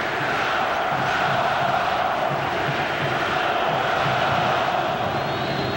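A large football crowd at a Vasco vs Flamengo match in the 2014 Campeonato Carioca final chants and roars in a steady, dense wash of sound that carries on without a break.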